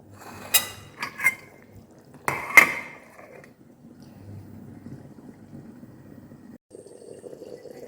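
A metal lid is set onto a pot of simmering prawn and sundaikai curry in a home kitchen, giving a few sharp clanks and scrapes close by, then a low, steady bubbling.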